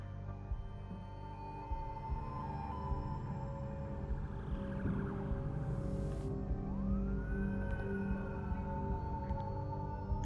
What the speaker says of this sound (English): So they're the sirens coming for Jefferson